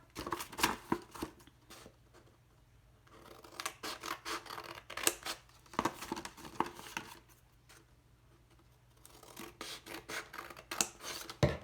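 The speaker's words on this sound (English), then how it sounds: "I'm going to take my scissors, cut along the crease, and stop at my stop line" Scissors snipping along a folded crease in two held-together sheets of paper for a pinwheel craft, close crisp bursts of cutting strokes in irregular clusters with quiet pauses between.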